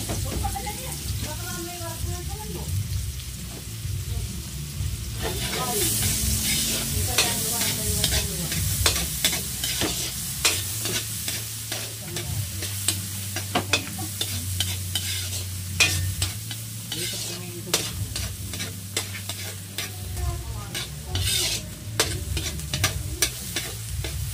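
Onion and garlic sautéing in a pan for a soup, a steady crackling sizzle with frequent scraping stirs and clinks of a utensil, close and continuous, with a voice heard faintly at moments.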